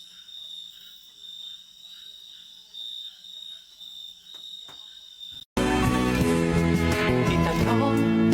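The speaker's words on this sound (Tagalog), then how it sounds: "Maingay lang yung mga insekto sa paligid." Insects and frogs chirp and croak steadily at night in the rural countryside of Kapangan, Benguet, a continuous near chorus, before loud music abruptly cuts in and takes over.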